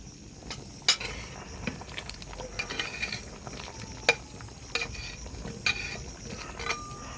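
Fried potatoes tipped into a simmering mutton curry and stirred, with irregular clinks of a spoon against the pot and soft scraping over a low bubbling background, heard up close with no talking.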